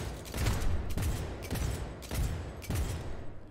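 Bursts of gunfire from a gun in the video game Cyberpunk 2077, with four or five loud volleys spaced roughly half a second to a second apart, each cracking sharply over a dense, rumbling background of game sound.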